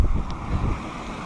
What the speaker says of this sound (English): Trying to talk between the wind right now. It's very windy.